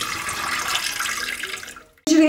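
Running water splashes and swirls over rice in a bowl for a couple of seconds, then stops briefly before a sharper burst of pouring water.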